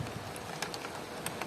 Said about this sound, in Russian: Посмотрите, какой у нас ливень.